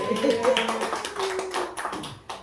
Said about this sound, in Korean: 우리 이고사님 박수 한번 쳐주세요